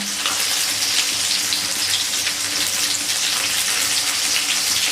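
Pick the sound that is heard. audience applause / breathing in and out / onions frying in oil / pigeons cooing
onions frying in oil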